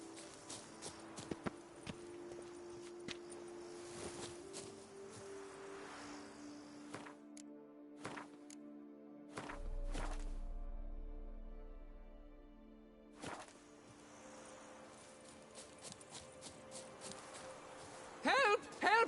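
Hooves of the horse Roach clip-clopping in a trotting rhythm in a PS4 video game, faint and steady, with a pause in the middle and game voices talking over parts of it.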